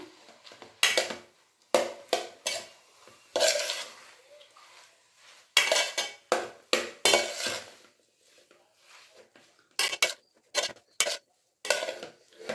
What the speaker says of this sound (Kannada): ಚೆನ್ನಾಗಿ ಮಿಕ್ಸ್ ಮಾಡ್ಕೊಂಬಿಡೋಣ ಈ ರೀತಿ